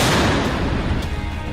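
German PzH 2000 155 mm self-propelled howitzer firing in Ukraine: a single loud, heavy boom at the start that rolls away into a decaying rumble.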